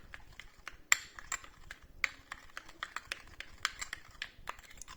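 A spoon stirs cream and cornstarch together in a bowl for a homemade hand and foot care mask, giving quick light clinks and scrapes in an uneven, repeated rhythm, close and fairly faint.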